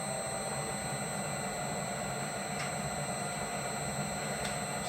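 A Bridgeport milling machine head running in back gear at low speed gives a steady, even mechanical hum with faint broadband hiss and no clear knocks throughout.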